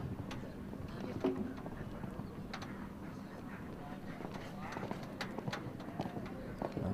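Hooves of a breeding stallion clip-clop in a steady rhythm across the arena at an FEI World Cup Qualifier show jumping event, moderately close, over a continuous crowd and ambient murmur.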